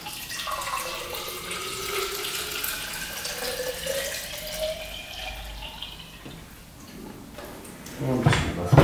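Water is poured into an Air Up bottle, running in a steady stream whose pitch rises as the bottle fills, ending in a few close clatters of handling. Speech is faintly present.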